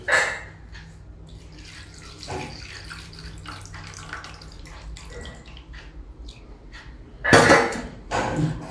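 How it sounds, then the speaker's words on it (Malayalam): Water poured into a bowl holding a mixed three-ingredient homemade anti-termite spray, heard close as a steady trickling splash with faint clinks of the bowl, opening and closing with louder, brief bursts of splashing and clatter. "വെള്ളം ഒഴിക്കുക."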